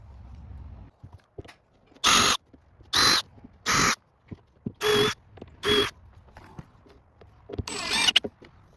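Screws driven into a chamfer strip on custom wooden concrete forms, heard as five loud bursts of drilling, each about half a second long, in a steady rhythm. A sixth, rougher burst comes near the end, with small clicks between them.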